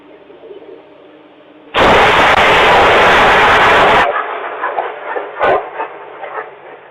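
A lightning strike and thunder right next to a doorbell camera, the bolt hitting a large pole nearby. It comes as a sudden, loud, close crackling blast lasting about two seconds, then a lower rumble that fades.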